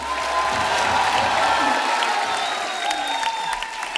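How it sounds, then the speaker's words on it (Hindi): A television comedy show's studio audience bursts into loud, sustained applause and cheering as two film stars walk onto the stage, dense and steady throughout with a faint voice beneath. "तो आप सबकी जोरदार तालियों के बीच मैं उनको मंच पे आमंत्रित करना चाहता हूं।"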